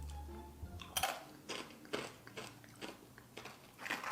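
Lunchables crackers dipped in cheese sauce crunched close up, a run of sharp biting and chewing crunches roughly every half second, alone without talk.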